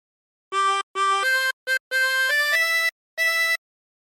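Harmonica playing a phrase of Incy Wincy Spider, a clean sequence of short blown and drawn reed notes with brief gaps between them, close and clear with no talking.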